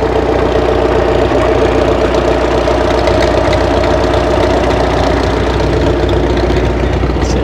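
A 1930 Allis Chalmers ACU industrial tractor engine idles loudly and steadily at a tractor show, a continuous low chugging rumble with a rough knocking texture and no pauses.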